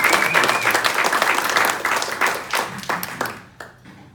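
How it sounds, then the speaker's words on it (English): A club assembly audience claps for its immediate past president, a full round of applause that gradually thins into scattered individual claps before stopping. "A round of applause for our immediate past president."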